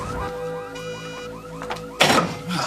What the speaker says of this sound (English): What's the point of a car alarm anyways?